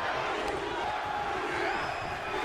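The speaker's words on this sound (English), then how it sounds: "What a raucous crowd here tonight." A raucous arena crowd in the wrestling video game WWE 2K24 roars in a dense, steady wall of cheering that stays loud and unbroken for the whole stretch.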